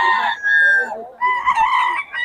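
A rooster crows nearby, loud and clear, in two drawn-out calls with a short break between them and a brief extra note at the end.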